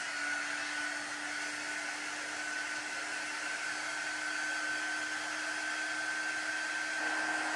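A hair dryer blowing steadily on freshly applied chalk paint on a Dollar Tree spring craft, a loud continuous whooshing whine with a constant motor tone, held close and unbroken throughout with no speech.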